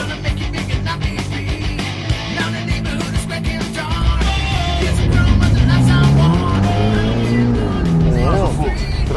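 Engine of a fire-damaged Ferrari revving and pulling away, loud and close, its pitch rising and falling over a constant rough roar while people talk over it.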